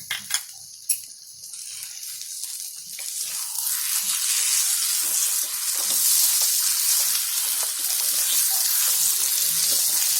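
Ghee for potato halwa sizzles in a pan, starting with a few utensil clinks and then swelling into a steady, bright frying hiss that holds loud and close.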